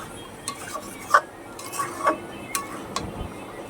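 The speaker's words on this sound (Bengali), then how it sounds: "এখন এটাকে ভালো করে নাড়তে হবে।" Mango pickle is stirred in a pot on the stove, giving a few light scrapes and clinks of the utensil against the metal in an irregular rhythm over a soft background hiss.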